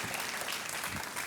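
Studio audience on the Hindi quiz show Kaun Banega Crorepati applauding a contestant who won 3,20,000 rupees, steady dense clapping filling the whole moment without voices.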